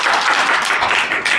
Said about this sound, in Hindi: एक अच्छा ताली बजाएं प्रभु के लिए।